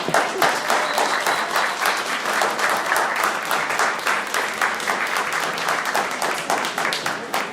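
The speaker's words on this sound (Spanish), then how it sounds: "Un fuerte aplauso, por favor." A crowd gathered at a community tech club breaks into loud, dense applause, with many hands clapping close together at a steady level for several seconds.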